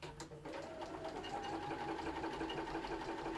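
A sewing machine runs slowly and steadily, stitching a cheat's cathedral window quilt block with a continuous, even mechanical whirr at close range and no talking.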